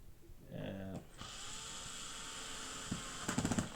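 A powered screwdriver tightening screws on a Lenovo IdeaPad 3 laptop gives a close, steady whine with a short ratcheting burst near the end.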